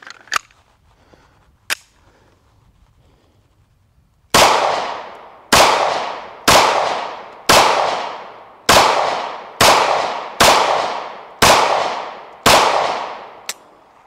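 A SAR9 SOCOM Compact pistol fires at rubber targets: two faint early shots, then about nine loud, close, sharp reports in a steady, evenly spaced rhythm, each ringing out briefly.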